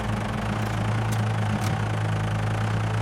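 A cartoon tractor engine idles with a steady low rumble and faint vibration, running continuously and fairly loud for a few seconds.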